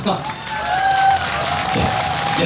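Audience applause at a daytime cherry blossom festival at Donghaksa in 2017, a steady wash of clapping under a performer's talking and faint background music, loud and sustained throughout.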